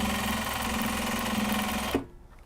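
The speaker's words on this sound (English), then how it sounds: "Giving it a very generous back stitch over the wedge, because why not?" A sewing machine stitches Japanese fabric for a tote bag in a steady, close, whirring run that stops abruptly, leaving near silence.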